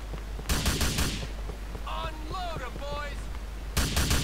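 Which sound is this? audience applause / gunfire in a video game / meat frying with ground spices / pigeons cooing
gunfire in a video game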